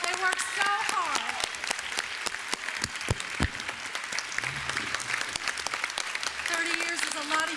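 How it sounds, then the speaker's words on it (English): A meeting audience gives a round of applause for a school chorus and its director, dense steady clapping filling the room for several seconds, with a few voices calling out over it. "so we could just give Miss Wallace and the chorus a really nice round of applause"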